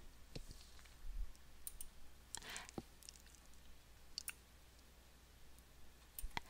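Computer mouse clicking to install a citation style, several sharp, faint isolated clicks spread across a quiet background.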